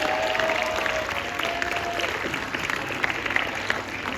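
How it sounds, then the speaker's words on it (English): A crowd applauds steadily at a prize distribution ceremony of a school English debate competition, many hands clapping in a dense, even wash that holds for several seconds, with faint tonal sounds in the hall. "Give them a big round of applause, everyone"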